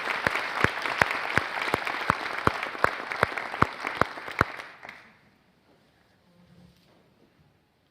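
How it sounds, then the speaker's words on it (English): An audience at a Gies College of Business celebration applauds to welcome a speaker, dense steady clapping with sharp individual claps standing out for about five seconds, then fading to near silence. "Please give him a warm Gies welcome."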